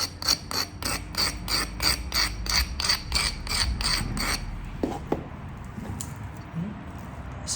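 A flint edge is abraded to a bevel during knapping, producing a steady series of short, rhythmic rasping scrapes up close, then scattered lighter scratches and taps.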